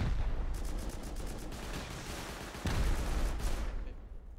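Rapid gunfire from automated base turrets in the survival game Rust, a dense continuous burst of shots over a busy game soundscape, loud and close, with a sharper volley near the end.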